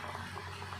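Pomfret fish curry in gravy simmers in a pan, giving a soft continuous bubbling and hiss, faint and close, steady throughout, with no voices.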